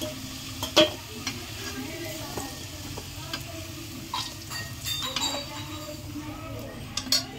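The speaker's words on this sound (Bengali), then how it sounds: "দেখুন বন্ধুরা, আলুগুলো আমার ভাজা হয়ে গেছে, লাল লাল করে কত সুন্দর করে ভেজে নিয়েছি দেখুন।" Potatoes fried golden in a wok give off a low, continuous sizzle while a metal spatula clinks and scrapes against the pan as they are lifted out, close and clear.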